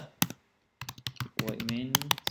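Bursts of clicky computer keyboard typing while writing Flutter code, short irregular clusters of keystrokes separated by brief pauses, close and fairly crisp.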